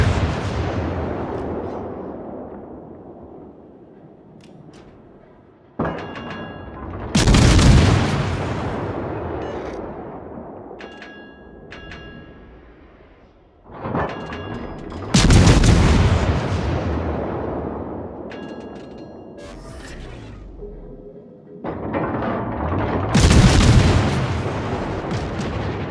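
Naval artillery salvos in the video game World of Warships, three heavy booming volleys several seconds apart, each a loud blast followed by a long rumbling decay, with faint interface beeps in between.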